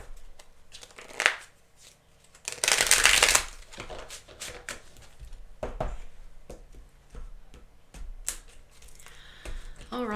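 Fairy Tarot cards are shuffled and riffled in bursts of close, crisp papery flicking and snapping, with quieter handling between the louder runs.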